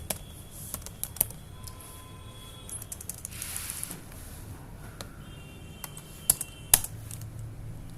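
Typing on a computer keyboard while entering commands for a network switch: scattered key taps and a few sharper, louder strokes over quiet room noise, with no talking.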